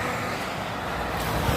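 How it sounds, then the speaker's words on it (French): Heavy trucks rush past very close along a roadside path on the pilgrimage route between Nogaro and Aire-sur-l'Adour, a loud, continuous roaring traffic wash with no voices. "on est le long de la route, avec les camions qui roulent super fort, qui nous frôlent"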